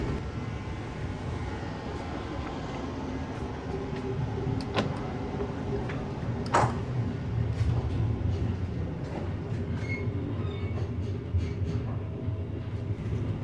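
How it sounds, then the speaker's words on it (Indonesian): The KA Lodaya executive train slows down as it approaches Sidareja station, with a steady rolling rumble inside the carriage and scattered clanks and knocks. "Ini kereta Lodayanya sudah mulai melambat, persiapan masuk stasiun Sidareja ya"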